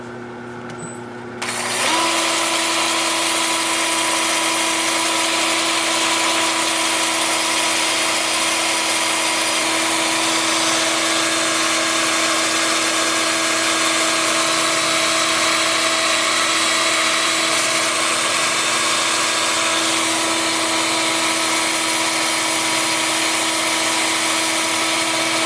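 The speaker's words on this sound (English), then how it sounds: "The lathe will be spinning in reverse at about 330 RPM" A wood lathe spins in reverse at about 330 RPM while a cracked bowl is sanded at 180 grit; a loud, steady motor whine with sustained tonal hum starts abruptly after a quiet moment and runs unbroken, no talking.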